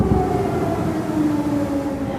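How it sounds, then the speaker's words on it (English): Warning sirens wailing over Kyiv during an overnight drone attack, with air defense in action; long rising and falling tones drift across the city, loud and sustained. "Warning sirens and sounds of Ukraine's air defense system in action heard over the capital."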